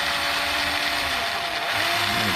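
A cordless power drill driving a screw into the seat of a Vanderhall Venice, a loud continuous motor whine that holds steady for a couple of seconds, close up, with no talking.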